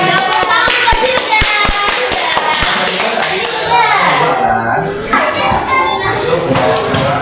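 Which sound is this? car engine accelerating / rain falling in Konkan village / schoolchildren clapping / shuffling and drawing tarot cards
schoolchildren clapping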